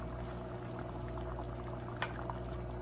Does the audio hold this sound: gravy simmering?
yes